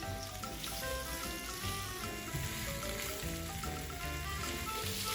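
Zucchini cooking in a pan to take on color, a soft, steady sizzle and bubbling under a continuous tonal background bed.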